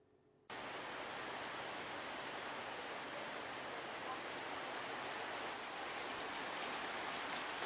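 Heavy rain pouring down in North Nias, Sumatera, a dense, steady roar of falling water that begins abruptly and continues unbroken and loud, with no voices.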